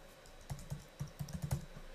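An email address is being typed on a computer keyboard: about eight soft, close key clicks in a quick, slightly uneven run, fairly faint, with no talking.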